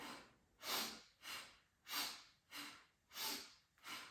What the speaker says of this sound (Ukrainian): Дихаємо носом, вдих назад, видих лікті вгору.